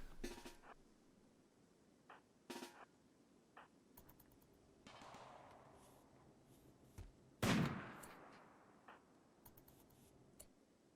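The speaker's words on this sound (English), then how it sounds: "Squirrel overkill with the anti-material rifle" Anti-materiel rifle fire in the colony game Rimworld, aimed at a squirrel: faint sharp cracks and ticks scattered through a quiet background, with one noticeably louder blast near the middle.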